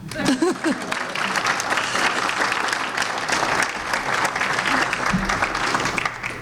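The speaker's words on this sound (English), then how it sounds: "You can clap." Audience applause at a university press conference introducing a new athletic director, broad and steady clapping from a roomful of people, loud and continuous, with a brief voice heard near the start and again near the end.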